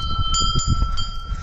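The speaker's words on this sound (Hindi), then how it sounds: "घंटी बजा दो यार" A bright metallic temple bell rings with a sustained, ringing tone, struck a few times in quick succession over a low rumble of background noise.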